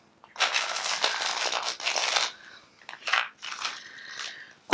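Tarot cards are shuffled repeatedly up close, crisp papery bursts coming in waves over several seconds.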